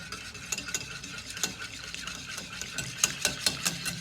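Cream being whipped with two small spoonfuls of powdered sugar, a steady close scraping and stirring with repeated sharp clicks of the whisk or beaters against the bowl, no talking.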